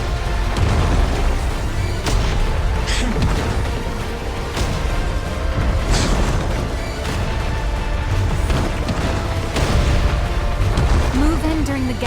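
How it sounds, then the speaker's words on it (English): Repeated heavy explosions boom through a battle in the video game Zenless Zone Zero, several broad bursts rolling over a dense, continuous wash of game noise and music. "Move in during the gaps between explosions."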